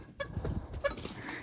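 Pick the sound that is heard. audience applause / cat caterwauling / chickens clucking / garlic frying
chickens clucking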